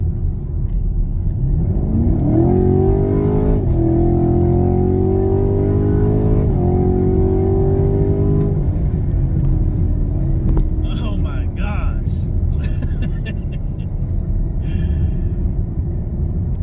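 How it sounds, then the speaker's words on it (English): A Chevrolet Camaro LT1 with its stock exhaust accelerates hard from inside the cabin, the engine note climbing and then settling through a quick shift before the rumble fades, with someone talking over it. "Stock exhaust, this thing wakes up."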